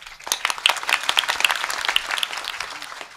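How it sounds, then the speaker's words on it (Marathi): An audience at a religious discourse in Beed, applauding in a dense but subdued patter of hand claps that stays fairly soft and even for about three seconds. "तुमच्या टाळ्या अशा मरगळ आल्यासारख्या वाजल्या"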